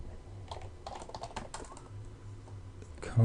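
Rapid typing on a computer keyboard, bursts of close key clicks in an uneven rhythm over a quiet low hum, ending in a louder thump.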